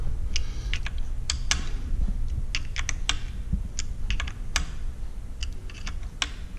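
Small screws on a rifle scope mount are tightened to torque, giving a string of sharp, irregular clicks and ticks close up over a low background rumble, with no voices.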